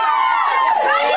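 A live concert audience cheers in a dense burst of many voices, with loud overlapping whoops and shouts throughout the brief moment.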